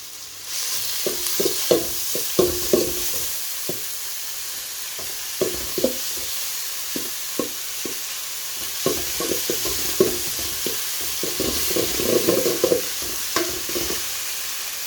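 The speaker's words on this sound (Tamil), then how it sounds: "இதில் இந்த ஒனியனெல்லாம் வந்து கோல்டு கலருக்கு வரும் வரைக்கும் நீங்கள் வந்து கொஞ்சம் ஃப்ரை பண்ணணும்." Onions fry in a pan with crushed garlic, ginger, curry leaves, cardamom and spices for biryani, giving a steady loud sizzle with frequent rhythmic scraping and clinking of a spatula stirring the pan.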